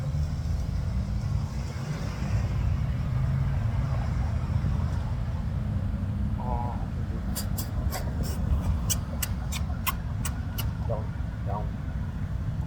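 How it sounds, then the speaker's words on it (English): Faint road traffic passes as a continuous low rumble from a distance, with a few light clicking and ticking sounds over it. "She's looking at all this traffic."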